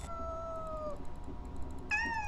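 Cat meows from the Amanda the Adventurer horror game: a drawn-out falling meow in the first second, a pause over low background hum, then a second brighter meow near the end, moderately loud and with no talking.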